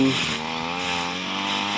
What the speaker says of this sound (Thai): ใช้เครื่องตัดหญ้าแทน เปลี่ยนใบเป็น ใบเหล็กเลยเห็นไหม